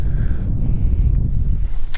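A cold north wind blows across a frozen river where someone is ice fishing, heard as a loud, close, low buffeting rumble of wind on the microphone with no talking.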